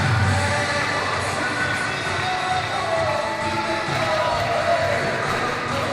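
Crowd at a live pro wrestling show cheering and roaring steadily throughout, a dense continuous wash of many voices with shouts rising out of it.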